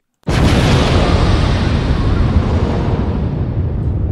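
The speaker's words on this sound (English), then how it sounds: "Where my explosion at?" An explosion sound effect bursts in suddenly after a brief silence, then rolls on as a loud, dense, sustained roar and rumble that slowly fades over about four seconds, with no voices.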